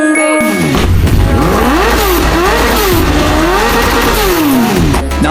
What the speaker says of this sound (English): this smooth, racing scream? That's Yoshimura, the sound of pure Japanese precision.